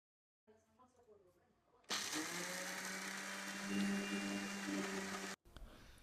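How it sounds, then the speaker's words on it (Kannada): Soaked chana dal is ground in a mixer grinder jar without water: after a brief lead-in of talk, the motor kicks in with a loud, steady whirring roar that holds for several seconds, then cuts off abruptly. "ನೆನೆಸಿ ಆದ ನಂತರ ನಾನು ಇದನ್ನು ಮಿಕ್ಸಿ ಜಾರಿಗೆ ಹಾಕಿ ರುಬ್ಕೊಳ್ತಿದ್ದೇನೆ"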